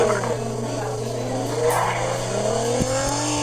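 A vehicle engine in a battle royale video game drones steadily with rising revs, heard close up over faint background game noise.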